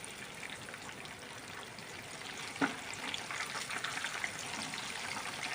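Fish frying in hot oil in a home kitchen pan, a steady soft crackling sizzle that runs throughout, with one brief louder pop partway through.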